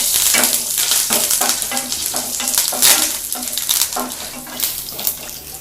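Curry leaves and garlic frying in hot oil for an Andhra tomato chutney, a close, lively sizzle with spitting crackles and stirring scrapes that pulse in bursts, without talk.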